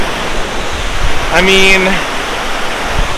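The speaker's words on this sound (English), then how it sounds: "I am about to go over my first river crossing" A rushing mountain river in Kyrgyzstan gives off a steady, loud broadband roar that fills the whole clip, with a brief spoken phrase in the middle.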